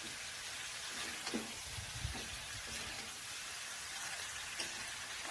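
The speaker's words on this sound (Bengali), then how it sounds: "লবণটা দিয়ে ভালো করে মাংসটাকে ভেজে নেব।" Chicken meat frying with salt in a hot wok for a Bengali chicken dish, a faint, continuous sizzle and hiss with a few soft scrapes of stirring.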